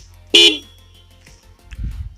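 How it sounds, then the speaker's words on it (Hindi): A single short, loud horn beep from a Bajaj Pulsar 150 Neon motorcycle sounds up close, followed by faint handling noise and a low murmur. "लेफ्ट साइड पे हॉर्न"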